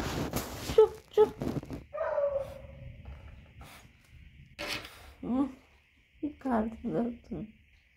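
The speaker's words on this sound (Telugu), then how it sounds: "బయట కుక్కలు అరుస్తున్నాయా?" Dogs whimper and cry in short, wavering yelps mixed with rubbing and scraping noises, moderately close, while a person talks intermittently.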